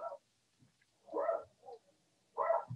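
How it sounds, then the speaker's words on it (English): Dog barking somewhere in the house during an online open mic, a few short separate woofs with gaps between, faint and distant. "My dog's barking."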